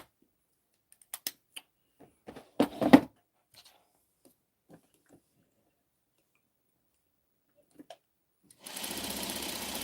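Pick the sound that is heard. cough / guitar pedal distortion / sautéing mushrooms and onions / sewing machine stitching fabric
sewing machine stitching fabric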